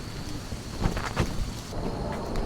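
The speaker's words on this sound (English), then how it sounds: "I quite enjoy to walk in this kind of rainy day with the rain, with some mist." Rain falling on a misty day by Xiang Lake, a dense, steady hiss with a few louder gusts of splashing, heard up close and with no voices.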